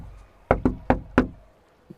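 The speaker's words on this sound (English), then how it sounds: "Gorm waddles up and starts knocking on the door" Four sharp knocks on a wooden front door, struck in an uneven rhythm of two quick raps, a short pause, then two more, close and loud with silence after and a faint thud at the end.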